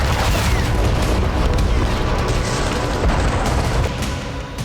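Rapid MLRS rocket fire and explosions in wartime Kharkiv, heard as a dense, continuous roar of booms and rumbling blasts that stays loud throughout with no voices.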